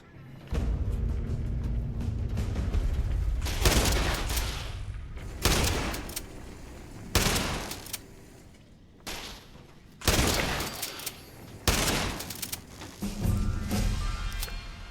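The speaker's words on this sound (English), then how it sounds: "Are you shooting me through a wall, buddy?" Gunfire in the video game Fallout 76 comes in heavy bursts of loud rattling automatic shots and booms, broken by short gaps, close and dominant with no talking.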